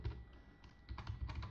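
Quiet, close clicking of keys on a computer keyboard with an English layout while writing Android app code, in short irregular bursts with brief pauses and no voices.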